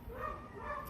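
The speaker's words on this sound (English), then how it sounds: "I don't know what's going on with the dogs over there." Dogs barking somewhere off at a distance, a faint muffled yap or two within a brief moment, heard alone at low level.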